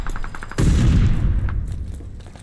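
Heavy gunfire from a weapon in Call of Duty: Vanguard, a dense burst of shots that starts suddenly and stays loud, then slowly tapers off.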